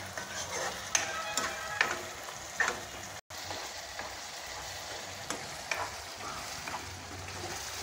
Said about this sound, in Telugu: ఈ మసాలా కొంచెం గోల్డెన్ కలర్ వచ్చిందాక నీట్గా వేగనివ్వాలి.